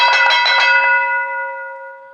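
A single bright bell struck to mark a change of topic in a talk show, its clear ringing tone repeating briefly then fading out slowly on its own.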